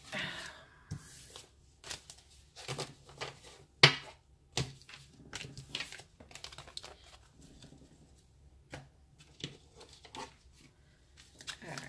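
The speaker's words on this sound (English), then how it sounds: "So let me shuffle" Cards riffle and slap in quiet, irregular bursts, with soft shuffling texture throughout and one sharper snap near the middle.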